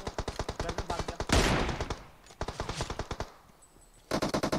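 Rapid automatic gunfire rings out in PUBG Mobile, with loud bursts of rhythmic shots, a heavy blast, a brief lull, then another burst at the end; no speech is heard over it.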